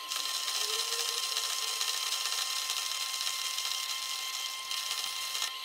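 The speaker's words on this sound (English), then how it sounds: "so we just need to cut it to length." A power tool cuts a metal part to length for the handbrake of a narrow gauge flat car, giving a steady, loud, bright grinding hiss that runs unbroken for several seconds.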